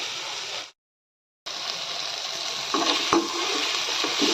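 Brinjal pieces sauté in oil for a dry fish curry, a dense close frying hiss that cuts out for a moment, returns steadily and gets slightly louder near the end with a spatula scrape.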